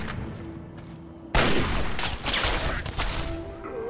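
Rapid gunfire bursts in Fallout 3 on Xbox Series X, a loud volley erupting suddenly after a quieter stretch and continuing as sustained shooting with sharp cracks through to the end.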